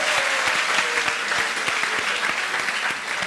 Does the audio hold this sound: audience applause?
yes